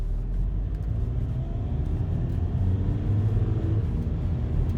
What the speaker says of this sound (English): we're gonna try sport mode here